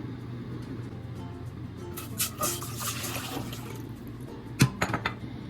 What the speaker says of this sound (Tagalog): Painit po tayo ng pot, lagyan natin siya ng tubig.